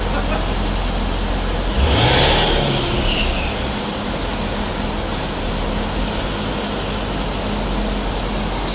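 Twin turbo C8 Corvette running on a dyno, a loud sustained engine roar with a brief surge and whooshing swell early on, then a steady drone, heard alone with no clear talk.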